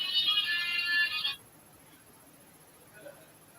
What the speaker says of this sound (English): I didn't realize my ringer was like that loud.